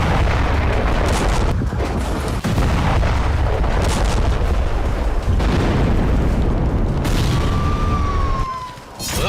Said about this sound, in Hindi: गाजा में इन धमाकों की वजह है इजराइल के वो रोबोट